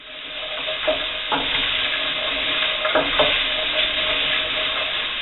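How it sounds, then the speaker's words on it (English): Cream of celery soup with parsley and mustard being stirred in a pot, soft scraping strokes and a couple of spoon knocks over a continuous low bubbling hiss, close and fairly loud. "I'm going to give it a really good stir"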